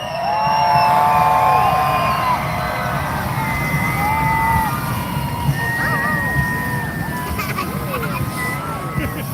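Large outdoor crowd at a nighttime hot air balloon glow cheering and screaming loudly, a continuous roar of voices with whoops and whistles rising over it, tapering slightly toward the end.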